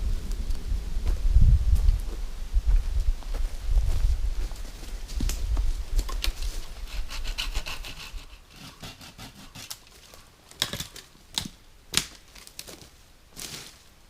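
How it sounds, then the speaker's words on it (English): Dead tree limbs trimmed at a backpacking campsite: low rustling thumps first, then a run of sharp, separate snaps and cracks of breaking wood, fairly close. "I've got some dead limbs in here that are in the way. I'm going to go ahead and just trim."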